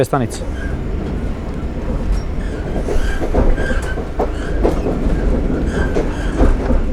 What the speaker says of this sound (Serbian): Idemo vozom. Madrid ima metro, a mi imamo voz.